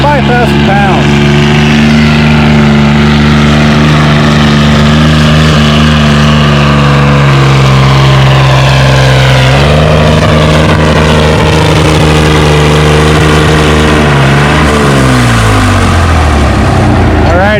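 A pulling tractor roars at full power while dragging a 5,000-pound sled at a tractor pull event, a loud sustained engine howl that drops pitch near the end, with faint crowd and announcer noise underneath.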